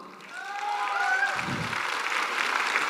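Audience applause at a direct-selling motivational talk, a broad steady wash of clapping that builds and holds throughout, with a few faint tonal sounds early on.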